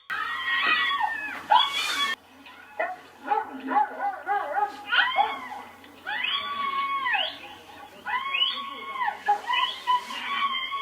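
A stray dog gives a string of sharp, yelping barks and whimpers, fairly close and agitated, with short pauses between bursts, in a residential complex.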